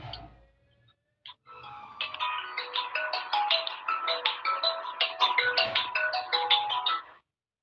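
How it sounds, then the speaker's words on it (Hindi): A melodic phone ringtone plays for an incoming call, a bright repeating tune of quick tones sounding steadily for several seconds, fairly close and clear, after a short pause from someone speaking. "प्रभु जी का फोन आ रहा है"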